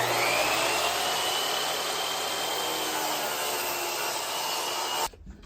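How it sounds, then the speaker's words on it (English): A miter saw slices through a piece of wood in one loud, continuous whining cut lasting about five seconds, close up, then stops abruptly. "Head on over to the miter saw."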